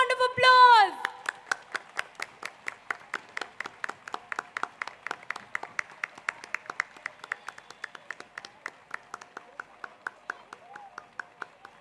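An audience at a school annual concert claps for performers, starting with a burst of dense applause that thins into steady rhythmic clapping in time, fairly close and moderately loud, after a brief voice at the start.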